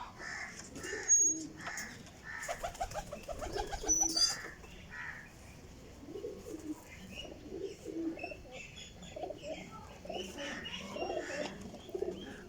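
High flyer pigeons coo repeatedly in a soft, rolling rhythm, with occasional chirps and brief wing sounds, close by and without talk.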